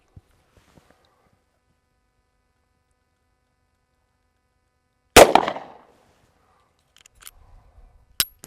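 An Altor 9mm single-shot pistol fires once with a sharp, loud crack after a long quiet stretch, with a brief echo, then faint handling noises and a sharp click.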